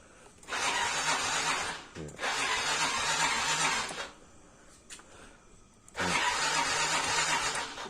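Car engine cranking but failing to start: three long bursts of steady starter-motor whirring separated by short pauses, fairly loud and close, with no catch or revving.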